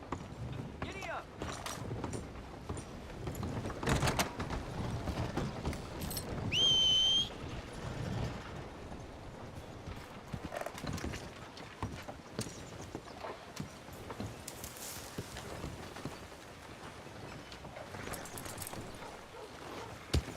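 Horse hooves clip-clop steadily in Red Dead Redemption 2 around the town of Strawberry, a continuous rhythmic patter at moderate distance mixed with game ambience and a brief whistle.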